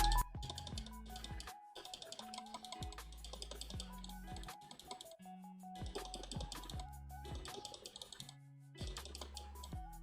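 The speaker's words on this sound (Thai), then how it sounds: "อยากจะให้ฟังเสียงตัวคลิกของตัวเมาส์ตัวน ี้มากๆนะครับ" Quiet, quick clicks of a Signo WG-903 Vorken lightweight wireless mouse come in short bursts, with soft tonal music playing faintly underneath.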